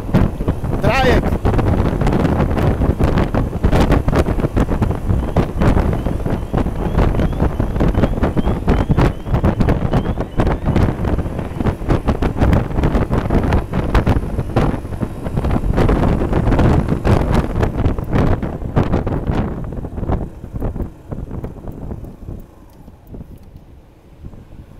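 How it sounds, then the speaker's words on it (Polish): Heavy wind buffeting a microphone while riding a Yamaha X-max 125 scooter, a steady roaring rush that gusts throughout, easing off and thinning near the end, with a faint engine underneath. "wiaterek dmucha"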